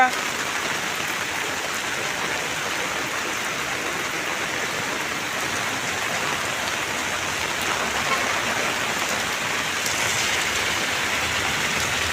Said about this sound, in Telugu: నెల్లూరు నగరంలో భారీ వర్షం కురుస్తుంది